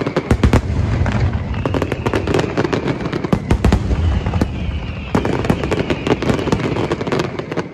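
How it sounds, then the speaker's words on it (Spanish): Fireworks from a romantic anime film crackle and burst in dense, rapid volleys, sharp pops overlapping continuously at close range with a faint tonal whistle running beneath, and no talk. "mientras ven los fuegos artificiales"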